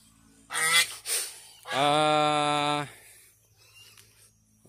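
Loud nasal honking from nearby farm ducks: two short honks, then one long drawn-out honk, with quieter calls trailing off.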